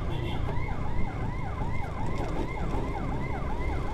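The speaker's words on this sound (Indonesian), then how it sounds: "Ini pakai sirene cepat guys." A fast-cycling ambulance siren wails continuously and loudly during a motorcycle escort through traffic, its rapid rising and falling tone repeating steadily over road noise with no talking.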